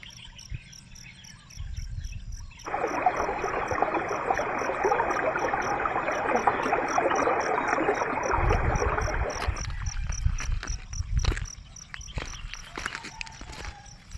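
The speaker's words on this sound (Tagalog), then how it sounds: "agos ng tubig" A steady rush of flowing water fills the scene for several seconds, with insects chirping continuously in the background and occasional soft footsteps.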